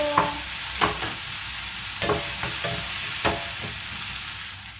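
Phuket fish balls stir-fried in a pan with curry paste and corn, a steady sizzle broken by several sharp scraping strokes of a spatula, close and moderately loud, no voices.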